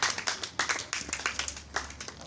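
A church congregation clapping in steady rhythmic bursts to acclaim Jesus, close and fairly loud, with hand claps repeating quickly and evenly for a couple of seconds.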